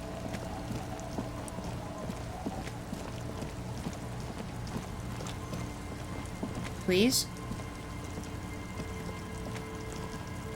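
Steady rain falling in a night scene of the video game Disco Elysium, a soft continuous patter running throughout beneath a low ambient hum, with a brief voice cutting in near the middle.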